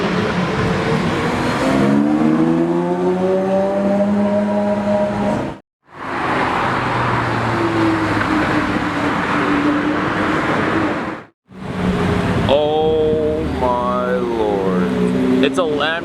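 Straight-piped Lamborghini Murcielago LP640 engines roar loudly and close, with sustained revving and rising-falling pitch across several passes, briefly cutting out between them, while people talk over the noise.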